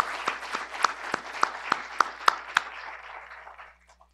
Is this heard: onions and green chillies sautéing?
no